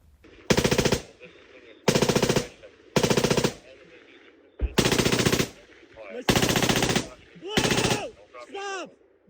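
Six loud bursts of automatic gunfire in a combat engagement in a forest belt, each lasting about a second with short pauses between, and faint voices in the gaps.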